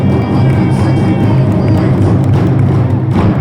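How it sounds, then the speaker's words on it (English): Audience at the 2022 Chief Crowfoot School princess pageant raises a loud, dense roar of crowd noise and cheering, steady and close throughout, with no gaps. "Let's give her a round of applause."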